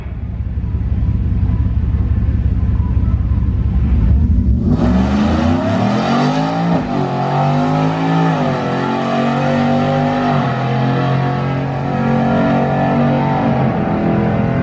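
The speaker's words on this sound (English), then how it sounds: "here comes Shane Malley in his Ford F-150 all-wheel drive Coyote" A supercharged Coyote-powered all-wheel-drive Ford F-150 pickup launches in a drag race: a loud, steady idle rumble bursts into a roaring launch, then the engine revs climb and hold as the truck pulls away.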